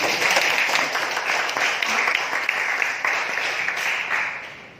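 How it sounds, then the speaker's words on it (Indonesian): A large audience at a leadership roadshow applauds Oriflame with dense, steady clapping that stays loud and even for the whole stretch, with no talk over it. "Berikan aplaus dulu buat Oriflame"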